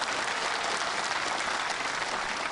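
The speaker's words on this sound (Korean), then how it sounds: "국민 여러분 뜨거운 박수를 보내주시기 바랍니다" Sustained audience applause at the 65th Armed Forces Day ceremony, a dense, steady wash of clapping from a large crowd that holds evenly throughout without breaks.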